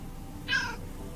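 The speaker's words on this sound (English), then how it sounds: "It meows." A single short meow from a pet cat in a video game, faint and brief against quiet background.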